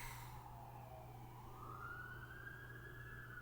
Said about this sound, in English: So if you hear sirens, then something's really wrong.